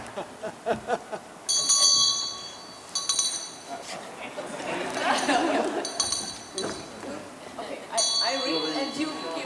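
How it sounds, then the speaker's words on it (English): A ceremonial bell rings in bright clustered strikes at a closing ceremony hall, several rounds of metallic chiming spaced a few seconds apart, with applause-like noise and people talking in the room around it. "the next Congress President, Watabe Tadishi, and then we shall ring the bell and give the trophy to him"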